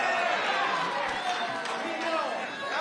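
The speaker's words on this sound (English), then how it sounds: "Did you hear the booing?" A large crowd boos in a loud, continuous, dense wash of voices that stays steady throughout, with the booing sounding close and overwhelming.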